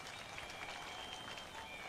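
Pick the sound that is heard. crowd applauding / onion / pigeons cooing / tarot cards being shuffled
crowd applauding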